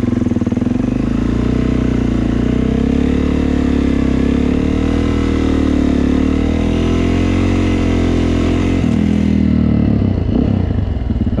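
A dirt bike engine, a Suzuki DRZ400E or KTM EXC500, runs loud and close at a low, steady idle-like drone while rolling, with the pitch dipping and wavering near the end as the brake is applied.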